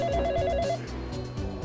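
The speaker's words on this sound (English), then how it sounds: "Oh, my phone rings." A telephone rings in short, repeated electronic trills inside a university faculty building, brief and fairly quiet, with no talk over it.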